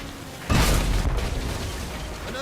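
A single cannon shot booms out in Tales of Monkey Island, a sudden loud blast that decays into a low rumbling tail over ambient game noise.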